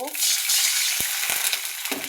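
A burst of loud hissing sizzle as water hits a hot pan of fried onion and garlic, with a few brief clanks and knocks of a utensil.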